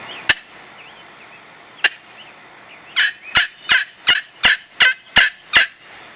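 A sharp wooden turkey friction call makes match-strike clucks, with two isolated clucks followed by a quick, evenly spaced run of eight crisp, fairly loud clucks.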